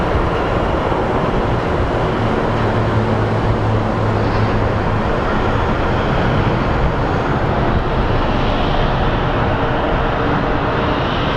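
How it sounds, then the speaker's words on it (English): Steady, loud broadband roar of jet engines fills the scene as a Hawaiian airliner pushes back at Phoenix Sky Harbor International Airport, a constant wash of noise with no clear breaks and no talk. "the Hawaiian plane is actually pushing out"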